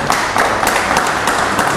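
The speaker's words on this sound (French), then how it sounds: "Je souhaiterais quand même que vous lui applaudissiez pour elle, elle vient d'Allemagne." An audience at a HCCE opening event in Paris applauds a guest from Germany, with dense, steady clapping that fills the room evenly at close range and carries no voices over it.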